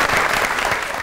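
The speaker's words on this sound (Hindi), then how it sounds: "तो बहुत सी तालियों में वेलकम टू तंजो मजा।" Studio audience applauding to welcome guests onto a Pakistani comedy talk show, a dense, steady clapping that fills the room without a break for about a second.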